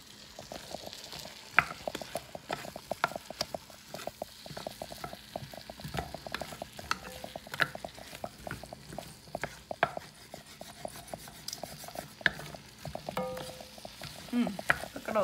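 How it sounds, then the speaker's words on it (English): Leftover vegetables sizzle and crackle in a pan while being fried for stock, with steady frying hiss and frequent stirring scrapes and taps nearby, no talk. "Okay, here we go. I hear a sizzle."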